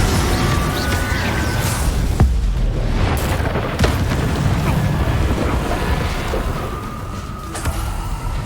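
Fire spell blasts and booming magical impacts in the Hogwarts Legacy video game, several loud bursts over a rumbling, dense battle soundscape, with no talking.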